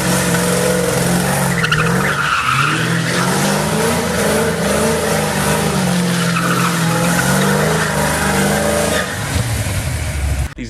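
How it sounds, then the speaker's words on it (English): A Foxbody Mustang with a 347 stroker engine spins donuts, its tires skidding and squealing continuously over a loud, steady engine roar for about nine seconds before the noise drops off. "then went and did donuts"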